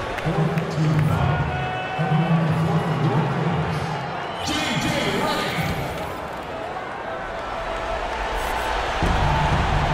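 Basketball arena crowd noise from the video game NBA 2K15 during a Warriors at Clippers game, a steady loud roar with ball bounces and sneaker squeaks throughout, running under commentary.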